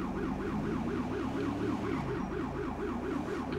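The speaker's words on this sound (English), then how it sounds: "we've got it's an ambulance. But yeah, I just love this siren" Wailing ambulance siren from the LSPDFR police video game, a loud, continuous up-and-down sweep that repeats steadily and stays close for the whole stretch with no talk over it.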